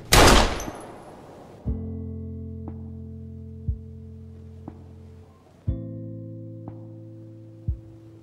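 Gunshots in the Life is Strange video game: a loud initial blast followed by several sharp, ringing shots spaced a couple of seconds apart, each leaving a sustained tonal hum, with no talking.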